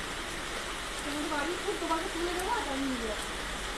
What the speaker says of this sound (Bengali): বৃষ্টি পড়ছে দেখো বন্ধুরা